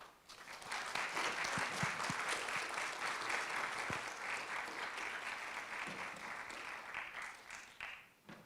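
Sustained audience applause welcoming speakers to a photography book talk, a dense steady wash of clapping from a large crowd that holds at full strength for several seconds before gradually thinning out.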